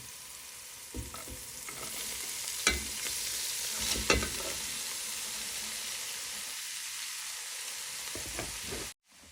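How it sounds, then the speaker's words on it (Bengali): Onions fry in hot oil in a pan, giving a steady broadband sizzle with a few scraping stirs and clinks, close and moderately loud, ending with an abrupt cut. "এখন আমি পেঁয়াজগুলো দিয়ে দেবো"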